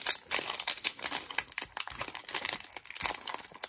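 Plastic cello pack of football cards being torn open, close and loud crinkling and crackling wrapper noises in rapid, uneven bursts as the stiff plastic is pulled at.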